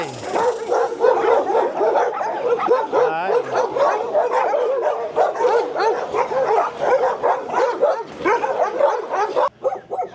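Several dogs near the San Antonio Zoo bark, yip and whimper in rapid bursts, loud and close, with the barking continuing almost without a break before stopping abruptly near the end.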